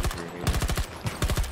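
Rapid bursts of automatic gunfire in the shooter game Battlefield 2042, several close, punchy volleys in quick succession with brief gaps, loud and dense with no talking.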